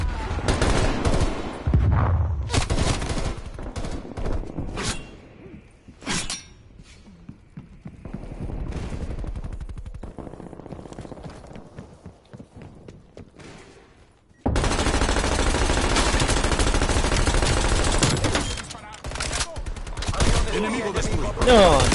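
Gunfire in Call of Duty Cold War, with dense bursts of shots and rapid machine-gun fire, loud and close, interrupted by quieter gaps and continuous game effects.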